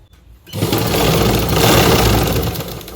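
An electric sewing machine stitches the side seams of a blouse, starting after a brief quiet moment and then running as a loud, steady, continuous whir until the end.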